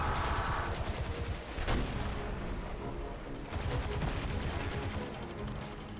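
Dense gunfire and an explosion from a grenade in the Destiny 2 video game fill the clip, loud and continuous, with a sharper blast near the start.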